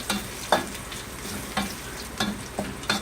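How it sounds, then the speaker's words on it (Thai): Garlic stir-fries in a hot wok for a sweet and sour seafood dish, a steady close sizzle broken by several sharp clanks and scrapes of a utensil against the pan, with no talking. "เราก็ผัดจนให้กระเทียมเหลืองนะคะ"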